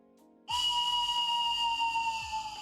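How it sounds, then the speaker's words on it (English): A small toy train whistle blown once, starting abruptly into a bright, steady, shrill tone that holds for about two seconds close by, with faint low voice-like murmurs underneath. "It says train whistle with a little train blowing out the front."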